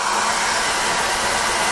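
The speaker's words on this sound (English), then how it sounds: "I get my hair dryer." A hair dryer drying wet paintbrushes blows with a loud, steady whooshing roar, close and constant, with no speech.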